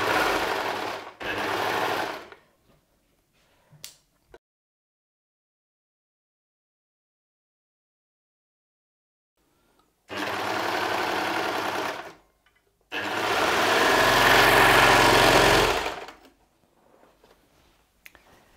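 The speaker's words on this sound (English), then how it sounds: "I'm using my overlocker to do it all in one step" An overlocker sewing the side seams of a fabric skirt runs in bursts, a fast mechanical whir starting and stopping several times, with quiet pauses between runs.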